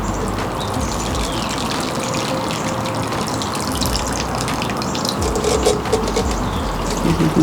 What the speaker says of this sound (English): But in the meantime, I need to water these 3.